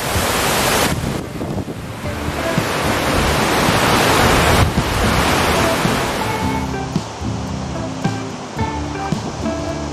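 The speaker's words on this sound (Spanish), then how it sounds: "Estamos justo abajo de la cascada" Cascada Diamantes, a waterfall in a park near the Iztaccíhuatl volcano, roars loudly and steadily from close by, a broad rushing wash with bursts of wind noise on the microphone.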